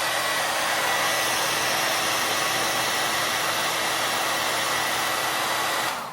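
An 1,875-watt hair dryer blows at full power, a loud, even rushing whir that runs steadily without change until it winds down at the very end.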